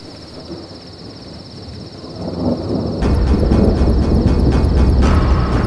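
A heavy downpour with thunder swells into a loud, steady roar partway through, with a thin high whine running underneath and no voices.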